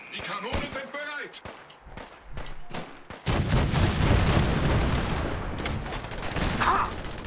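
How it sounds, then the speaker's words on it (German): A series of heavy booming cannon shots in Fallout 4, sharp and spaced, followed by a dense rumbling barrage and scattered impacts; game effects with no clear talk. "Die Kanonen sind bereit!"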